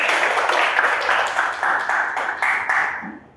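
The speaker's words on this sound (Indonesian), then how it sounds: "Beri tepuk tangan dong ke temannya sudah bertanya." Classroom of students claps together for a classmate, a dense steady patter of many hands close by that fades out near the end, with no talk over it.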